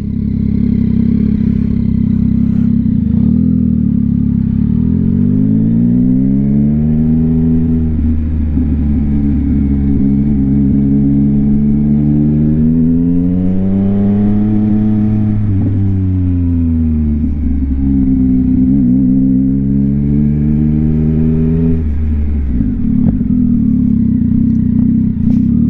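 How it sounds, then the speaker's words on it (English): A 2022 Yamaha XSR900 with a Kelpi Custom Moto shorty exhaust roars close and loud, revs sweeping up and down through several downshifts before settling back to a deep idle-like burble, no talking. "Oh my, these downshifts. They're so crisp."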